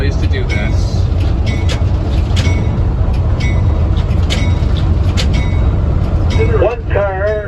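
L&PS Railway Car 14, a historic railway car, rolls on its home rails with a steady loud rumble and clicking of wheels over track joints. Brief voices and a bell-like tone come near the end.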